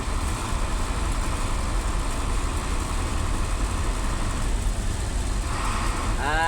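Cars idle in a traffic jam near a U-turn by the pier at Marina, making a steady low engine rumble that holds without a break, with a brief higher tone near the end.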